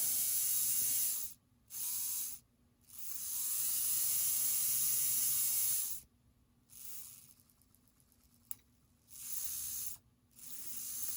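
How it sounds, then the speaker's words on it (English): An old Athearn model train motor, rewound, runs in several bursts, a high buzzing whine with a hissy, ratcheting edge that starts and stops abruptly, with silent gaps between runs. "motor seems to be running well"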